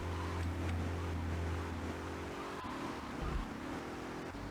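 Mafia Sentinel car engine driving in GTA 3, a steady low droning hum with slight revving shifts throughout, fairly quiet, with a few faint bumps near the end.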